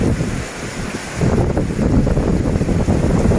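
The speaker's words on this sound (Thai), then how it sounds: "หลบฝนก่อนนะครับฝนฟาดนะครับ" Heavy rain and gusting wind lash Pak Tho train station, a loud, dense roar that swells sharply partway through and stays strong, with no voices.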